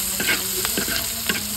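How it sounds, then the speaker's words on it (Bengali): Green chillies, chopped garlic and chopped onion sizzle and crackle in a pan in a village kitchen, a steady close frying hiss with several stirring clatters over a faint constant hum. "এই খোলা আমি ভাজি করে নেব। ভাজি করার লেগে কাঁচামরিচ দিয়ে দিলাম, রসুন কুচি, পেঁয়াজ কুচি"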